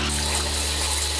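Tap water runs steadily in a home kitchen while fruit and vegetables are washed for making sushi, a close continuous rushing stream over a low hum, with no talking.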